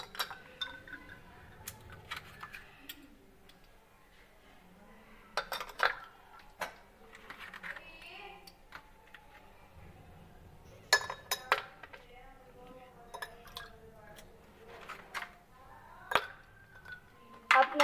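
Ice cubes dropped into a glass of homemade strawberry sharbat give a series of sharp clinks and clatters against the glass. The hits come in irregular bursts, close and fairly loud, with faint background noise between them.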